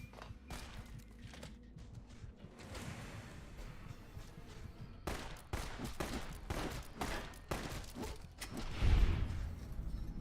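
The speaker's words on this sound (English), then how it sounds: "Of course, they didn't notice that there was shooting around here." Gunfire in Fallout: New Vegas: bursts of shots, first sparse and mid-distance, then a dense volley of loud cracks from about five seconds on, with one heavy near blast close to the end.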